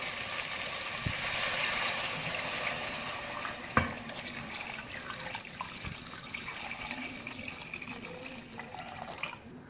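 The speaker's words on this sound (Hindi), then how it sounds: "अब पानी शामिल करूँगी।" Water poured steadily into a cooking pot of browned goat trotters, a continuous splashing, gurgling stream close by for the full length with no talk.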